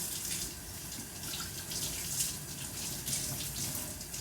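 Tap water running while coffee brewing equipment is rinsed, a continuous soft splashing stream at moderate distance with no speech.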